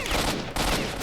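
Gunfire in STALKER: Shadow of Chernobyl, a loud continuous burst of rapid shots with a brief dip midway, filling the whole moment.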